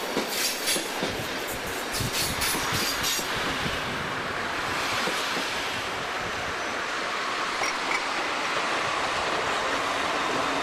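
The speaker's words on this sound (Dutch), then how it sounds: "De 1311 is ook bezig met rangeerwerkzaamheden." Dutch electric locomotive 1311 shunts on the Maastricht–Liège line with a broad, steady rumble of rolling stock, faint wheel squeal and light clatter over rails, fairly close and continuous.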